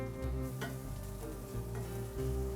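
Oil sizzles and fries steadily in a pan while Kuwaiti chicken rice is cooked, a close, even hiss with faint stirring and no voices.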